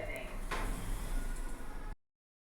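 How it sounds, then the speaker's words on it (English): Lift doors sliding open at a Travelodge hotel in St Albans, a short rumbling slide with a brief mechanical clunk, close by, ending abruptly. "Doors opening."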